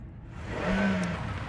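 A car in the video game Surviving the Aftermath drives with a steady mid-pitched engine whir. The engine rises slightly as it runs, alone with no talk, over about a second and a half.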